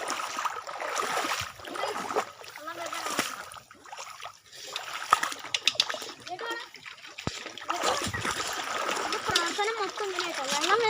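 Water splashes and gushes from a small homemade water pump, with bursts of spraying and gurgling while people, including a child, talk over it throughout.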